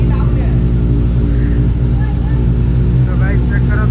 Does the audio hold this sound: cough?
no